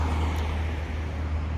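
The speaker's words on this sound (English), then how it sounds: "Cars coming by." Cars go by on a road next to a small rural cemetery and farmhouse in Farmingdale, New Jersey, making a steady, fairly loud low rumble of traffic that stays constant throughout.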